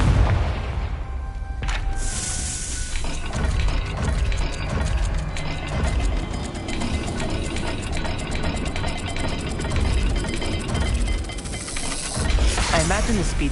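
Confringo fire spell explosion in the Hogwarts Legacy video game, a loud booming blast with hissing, rumbling aftermath, followed by sustained roaring combat noise and another burst near the end.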